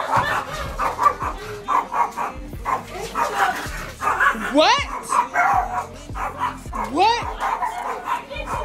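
Dogs bark and yip repeatedly nearby with rising whiny barks, mixed with people talking over them.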